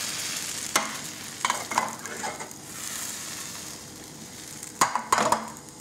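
Crepe batter hits a fairly hot pan and cooks with a steady close sizzle, interrupted by a few sharp scraping and clinking knocks as the pan is swirled.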